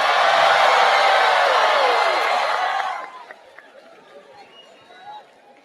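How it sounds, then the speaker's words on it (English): Loud crowd of spectators cheering and roaring at the Miss World final as India is announced, dense and sustained for about three seconds before abruptly dropping to a quieter murmur with scattered sounds. "I think I already hear the crowd."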